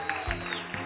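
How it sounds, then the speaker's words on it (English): Audience applause at a hypnosis show: a steady wash of clapping from a crowd, continuous and moderately loud throughout the short moment. "Please clap for her, please."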